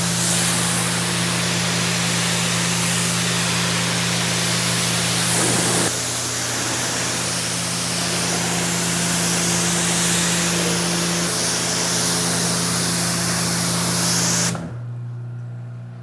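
A pressure washer sprays a BMW M3 in a loud, continuous hiss over a steady motor hum, the spray shifting slightly partway through before cutting off abruptly near the end.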